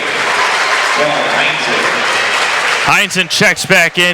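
A high-school boys basketball crowd gives a long round of applause for a player fouling out, steady and full, with an announcer's voice coming in over it near the end.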